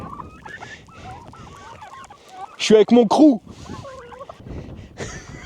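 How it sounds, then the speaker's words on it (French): Turkeys gobbling on an olive farm in Morocco: a loud burst of several rapid gobbles close by in the middle, with softer fowl calls around it and someone talking over parts of it. "Regarde derrière moi. Je suis entouré de dindes."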